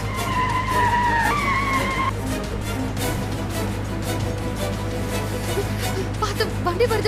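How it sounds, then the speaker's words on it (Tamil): Car tires skid and squeal loudly as a vehicle approaches at speed on a road, a sustained screech over engine roar that settles into rumbling, with a brief voice near the end. "வண்டி வருது"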